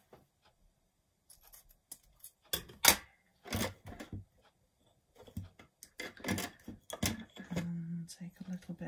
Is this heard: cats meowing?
no